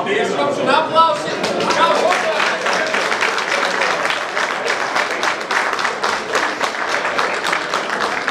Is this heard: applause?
yes